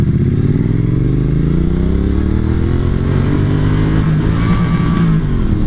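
A Triumph Street Twin motorcycle rides along with a loud, close engine drone, its note rising gradually as it accelerates through the clip.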